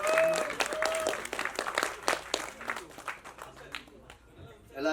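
Applause from the audience at a Tamil film's songs and trailer launch event, a burst of clapping that thins out over a few seconds while a voice carries on over it.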